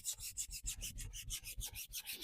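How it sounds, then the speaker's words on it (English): A stiff hand brush scrubs a fabric car seat in quick, even back-and-forth strokes, a close, soft rasping rhythm with no voices. "just start scrubbing"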